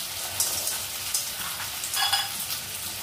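Cashews and raisins frying together in a pan give a faint, steady sizzle with crackly pops and brief bursts of stirring, no voices.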